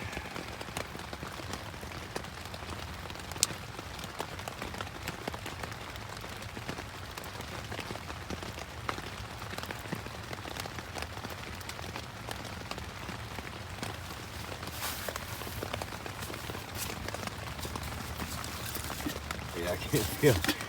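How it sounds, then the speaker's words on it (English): Heavy rain drums steadily on an umbrella outside a bushcraft shelter on a rainy overnight stay, a dense, close patter with occasional sharper drops that continues without a break. "It's the rain hitting my umbrella"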